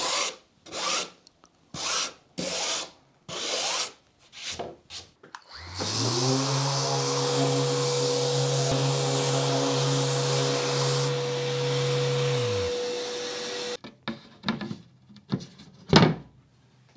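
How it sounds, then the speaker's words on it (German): Short scraping strokes, then a sustained steady sanding drone for several seconds, followed by a few more brief abrasive rubs up close, as the edges of a wooden back panel are lightly sanded. "Die Rückwand, da werde ich einfach mal kurz über die Kanten leicht drüber schleifen."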